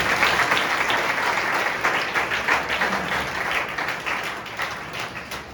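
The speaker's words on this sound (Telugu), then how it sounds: "దేవిస్తూ తర్వాత చప్పట్లు కొట్టి ఆయన అభినందన" A church congregation applauding, steady dense clapping from many hands that holds for several seconds and fades slightly toward the end.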